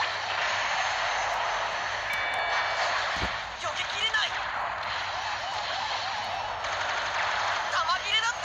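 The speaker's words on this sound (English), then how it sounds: "being bombarded like crazy" Explosive bombardment and rapid gunfire from a mecha combat battle in the video game Macross Delta Scramble, a dense continuous roar of blasts and aircraft-like engine noise with sharper bursts throughout.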